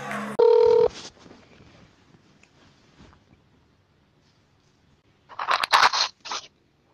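Telephone rings in a short burst at the start, then after a quiet pause two louder electronic ringing bursts sound close by, with no talk over them.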